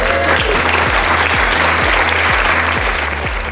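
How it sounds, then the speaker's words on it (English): Loud, sustained applause from a crowd at a wedding, dense clapping that fills the space without a break. "Give him a round of applause."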